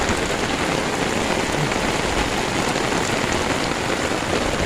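Steady rain falling and pattering on surfaces, a dense, loud, even wash of drops heard close by with no voices.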